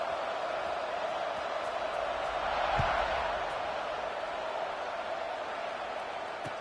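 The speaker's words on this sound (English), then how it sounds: "this crowd is buzzing after that last score" A football stadium crowd buzzes after a score, a steady, distant roar of many voices that swells slightly midway and continues as an even wash of noise.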